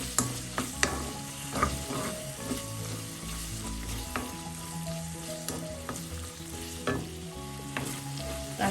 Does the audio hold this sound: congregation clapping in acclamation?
no